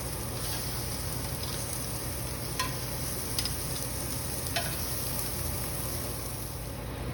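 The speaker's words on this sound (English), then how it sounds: "Now lay our shrimp in the pan, and like our other proteins, you want to let them cook and get that nice char on the first side" Shrimp sizzle steadily in a hot grill pan with a constant crackling hiss, and a few faint metallic clicks and scrapes sound above it.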